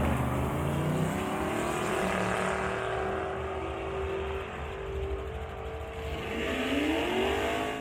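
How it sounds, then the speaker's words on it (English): Holden Commodore V8 drag car running on seven cylinders at a drag strip, a loud, steady engine roar that builds and holds through the run, with a rising rev note near the end. "is racing his Commodore"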